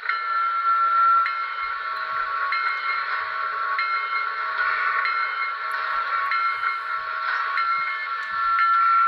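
An N-scale model steam locomotive bell sound effect rings on its own, striking about once a second in an even rhythm. Each strike is clear and metallic over a faint steady hiss.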